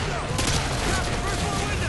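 Gunfire from the video game Modern Rambo 2, a dense, steady burst of shots running through the clip with no clear gaps between them, heard at a fairly even loudness with some low rumble beneath.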